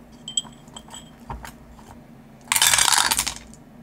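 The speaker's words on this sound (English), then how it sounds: "let me grab some dice and then we could roll" Mini dice tumbling down through a dice tower, a few light clicks followed by a bright burst of rattling clatter lasting about a second, close and fairly loud.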